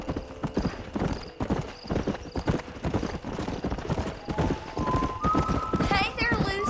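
Horse hooves clip-clop steadily in the Red Dead Redemption video game, a continuous trotting rhythm mixed with in-game talk, a whinny and western music rising near the end.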